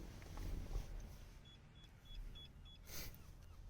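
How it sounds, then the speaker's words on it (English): A Starline i96 Pro car security system in a Range Rover Vogue gives five short, faint, evenly spaced electronic bleeps over a low interior hum, with a brief rustle near the end. "Get 5 bleeps."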